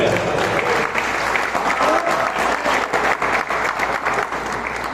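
Members of a Baptist church congregation clap for Jesus, loud continuous applause close by with a faint voice under it.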